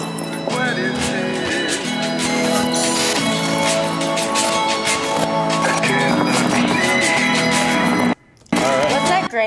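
Horses neigh and hooves clatter in a film trailer soundtrack, loud and continuous over dense music and voices, with a brief drop near the end.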